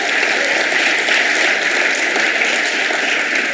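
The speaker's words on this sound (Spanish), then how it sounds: "Dale un aplauso al Señor en esta mañana." A church congregation applauds during a Sunday morning service, a dense, continuous roar of many hands clapping at once, steady and loud from start to finish.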